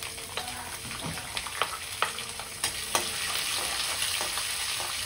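Green chillies fry in hot oil with a bright crackling sizzle and a few sharp spatters and stirring clicks, moderately close and without talk.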